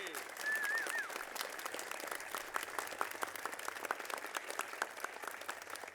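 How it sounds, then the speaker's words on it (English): Audience applause for Georgia Governor Brian Kemp at a bill signing event: many hands clapping in a sharp, steady patter that lasts throughout, with a faint bird call early on and some background voices. "Please give him a big round of applause."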